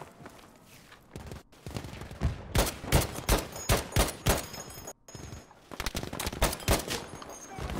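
Gunfire in Battlefield V's beta, with a sniper rifle in use: rapid, loud bursts of repeated shots in dense clusters, broken by brief pauses, with faint footstep-like shuffling beneath.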